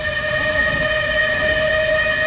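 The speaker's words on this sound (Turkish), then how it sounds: "Tren kalkıyor." A departing train sounds a loud, sustained whistle or horn with steady tonal layers, held without a break over a low rumble, close and dominant.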